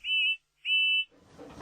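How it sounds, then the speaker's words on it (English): Two bright, sustained whistle blasts from George the steamroller in an animated Thomas and Friends scene, each under half a second with a short gap between, followed by a soft hiss. "Then he heard a loud whistle."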